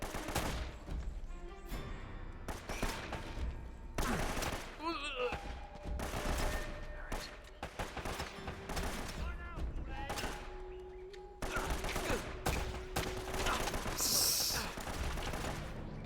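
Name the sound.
machine gun fire in a video game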